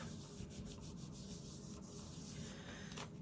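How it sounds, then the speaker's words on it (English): Rub-on transfers being rubbed firmly onto a paper baby card, a close, continuous scratchy rubbing with short quick strokes near the start, quiet and alone. "flip it over and rub everything good like that"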